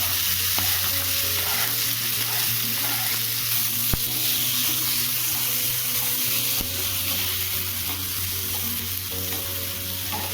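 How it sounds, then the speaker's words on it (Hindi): Roughly chopped tomatoes added to fried onions in a hot pan, a loud, steady sizzle with stirring scrapes throughout, alone without talk. "तो चलिए यहीं पे जो टमाटर चॉप करके रखे थे रफ से उसे डाल देते हैं।"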